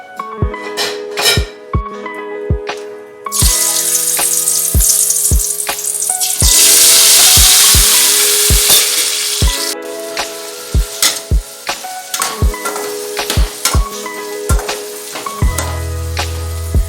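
Potatoes fry in a pan in a home kitchen, a steady loud sizzle running under repeated sharp clinks and scrapes of a utensil stirring against the pan, with a brief swell of hissing midway.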